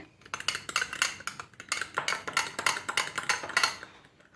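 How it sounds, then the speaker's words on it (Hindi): A fork whisks yeast into liquid in a bowl for pizza dough, making quick rhythmic metallic clinks and scrapes against the bowl, close and moderately quiet, with no talk. "आपने जो ईस्ट है वो इसमें फोक की मदद से मिक्स कर लेना है"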